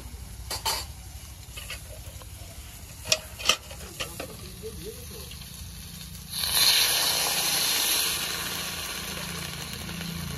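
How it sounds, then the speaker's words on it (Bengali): Water hits a hot pan of bata fish curry with flat beans and lentil dumplings, bursting into a loud, sustained hiss and sizzle after several seconds of quiet stirring clinks and scrapes. "এবার জল দিয়ে দেব"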